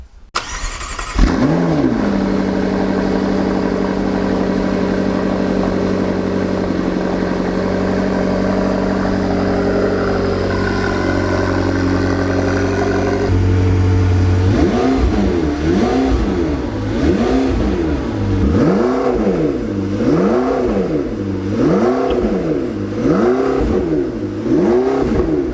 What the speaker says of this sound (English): Maybe we should hear the engine start.